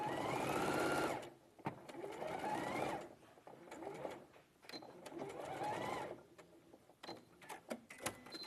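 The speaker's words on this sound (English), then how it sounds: "Oh, the bobbins run out, Bob." A sewing machine stitches a seam in repeated bursts of rapid mechanical whirring, a second or more each, separated by short pauses, close and clear.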